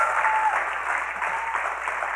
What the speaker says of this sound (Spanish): Denle un aplauso a ella, pues.